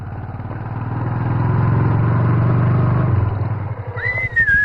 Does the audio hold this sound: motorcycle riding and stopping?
yes